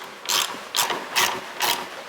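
Ratchet tightening the bottom nut of the sway bar link on a 1982 Jeep CJ7: four short, crisp clicking bursts at an even pace, close up and fairly quiet.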